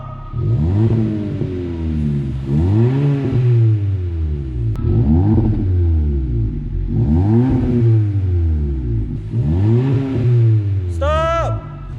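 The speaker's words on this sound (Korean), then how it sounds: "배기 사운드 들어보겠습니다" A Kia K5 DL3 with a tuned exhaust is revved repeatedly up close, about five rising and falling throttle blips with a deep, chambered tone, each separated by a short idle, ending in a sharp high-pitched squeal.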